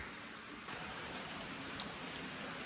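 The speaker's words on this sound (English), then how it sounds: "It's a good day to be doing this because it's raining outside." Steady rain falls outside, heard indoors as a soft, even hiss of drops on surfaces with no voices over it.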